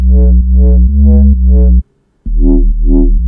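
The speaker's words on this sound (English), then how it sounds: "Next, we've got the bass." A heavy speed garage bass line made in Ableton Live plays alone, loud and close, as a run of deep, pulsing notes in a steady rhythm, briefly cutting out before two more notes follow.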